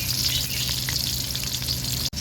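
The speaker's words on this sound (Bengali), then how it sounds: "মাছের আলুগুলো লাল লাল করে ভালো করে আমি ভেজে নেব" Potato pieces for a fish curry fry in hot oil until reddish, a loud, continuous close sizzle with a steady crackling texture and a brief dropout near the end, no talking.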